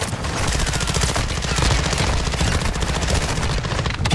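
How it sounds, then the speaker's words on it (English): Rapid automatic gunfire in a video game rattles continuously, loud and close, with dense overlapping volleys and steady pulses throughout and no speech. "Lads, I'm getting shot a lot."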